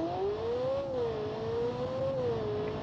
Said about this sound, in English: this is actually extremely appropriate to use a car with a Ferrari V8 engine in it, the Ferrari Tipo